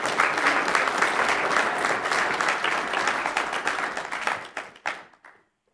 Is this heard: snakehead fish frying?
no